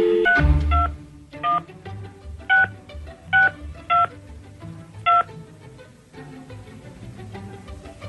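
Telephone keypad dialing, a quick run of DTMF tones followed by several spaced single beeps as a number is punched in to call back, heard close and alone with a low hum underneath.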